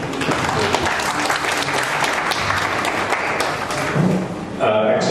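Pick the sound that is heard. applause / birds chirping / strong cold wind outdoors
applause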